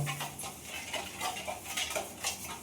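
Utensil scraping and clinking in a pan while ghee and sugar are mixed together, a steady run of soft metallic stirring scrapes heard close up, with no talking.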